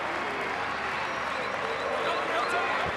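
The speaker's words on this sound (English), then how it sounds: "The crowd rise again." Crowd in the Salta stadium roaring and cheering at the Argentina versus Scotland rugby test match in July 2022, a dense, sustained wall of noise that swells slightly toward the end.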